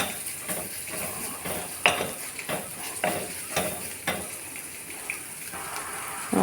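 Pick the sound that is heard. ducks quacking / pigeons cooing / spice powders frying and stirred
spice powders frying and stirred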